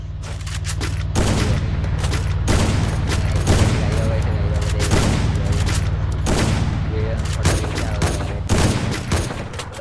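Gunfire in a battle royale mobile game: bursts of rapid shots and booms come in several separated volleys, loud and close, with players talking over the action.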